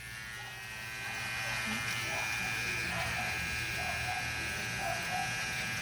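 A VGR V-600 electric shaver shaves several days' stubble. Its close, continuous buzz swells after the first second and holds steady, and a voice can be heard faintly alongside it.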